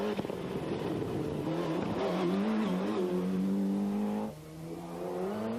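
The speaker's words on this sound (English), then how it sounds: "And here's David Greer's Group A Escort Cosworth." A 1995 Ford Escort Cosworth Group A rally car passes on a tarmac rally stage, its engine rising in a loud, rising revving tone as it nears, then dropping away abruptly as it goes by.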